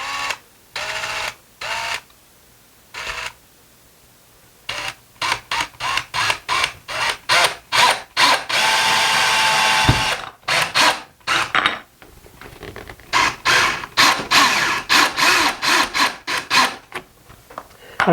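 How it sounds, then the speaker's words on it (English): A power drill drives a screw into a window blind mounting bracket in short repeated bursts, each whir starting and stopping with brief pauses between, one longer run in the middle, close and fairly loud. "now we're going to screw it in partially"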